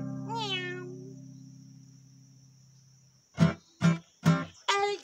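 Meowing cat in a children's animal song, one long drawn-out meow over a low droning tone, then a quick series of four short, loud meows close up.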